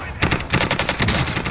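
Rapid bursts of automatic gunfire in Call of Duty: Warzone crackle close and loud, a rattling stream of shots with only brief gaps.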